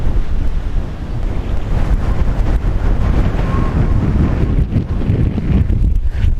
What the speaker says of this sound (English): The wind's going to be coming up here, blowing pretty good.